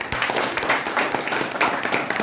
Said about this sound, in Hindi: और बजा लो ताली।